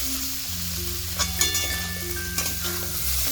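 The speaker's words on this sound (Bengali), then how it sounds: "এখন মিশিয়ে নেব মশলার সাথে।" Fried okra and potatoes are stirred with spices in a pan, with a steady sizzle under scraping and clinking strokes of the spatula against the metal, loud and close, with no talk.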